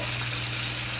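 Vegetables with a splash of hot sauce sizzling in a hot frying pan, a dense continuous hiss held at a steady level over a low hum, brief and without voices.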